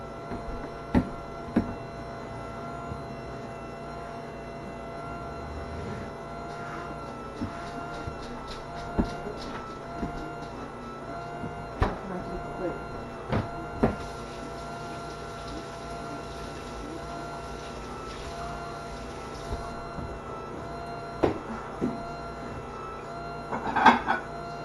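A Philips pasta maker machine kneads dough and extrudes spaghetti with a steady motor hum and whir, broken by scattered light clicks and knocks throughout, with no one speaking.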